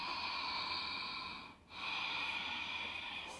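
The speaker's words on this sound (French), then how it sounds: "Deux belles, longues respirations, gratte l'air dans la gorge" Long, slow ujjayi breaths during Ashtanga yoga, air scraping through the throat with a hissing, raspy texture, heard close and clear as two sustained breaths with a short pause between them.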